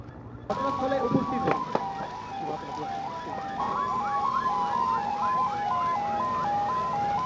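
An ambulance siren wails during an airport fire drill at Chittagong airport, its warbling two-tone cycle starting abruptly and repeating steadily at a loud, fairly near level, with brief clanks and some voices underneath.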